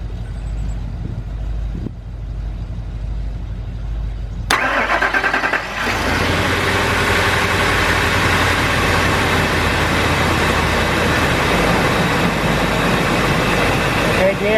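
A 1999 Ford Expedition with a cylinder 2 misfire has a quiet lead-in with small clicks, then the engine cranks and catches with a loud start and settles into a steady, close idle.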